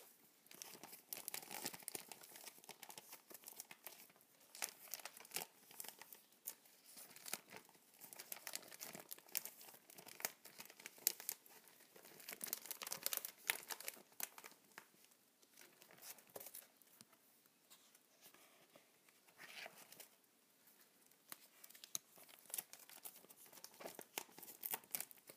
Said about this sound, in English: this plastic sleeve sits in front of them, so you pop your card in the sleeve